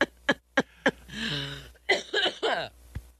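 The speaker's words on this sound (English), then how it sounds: "Made me cough there." A person coughs several times in short sharp bursts in a winery parking lot in Colorado, with a person speaking briefly between the coughs and a final cough at the end.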